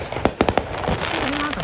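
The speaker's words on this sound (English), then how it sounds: "You want the fireworks?" Fireworks bursting during an Independence Day celebration, several sharp pops in quick succession followed by a steady crackling rumble, heard amid outdoor crowd noise.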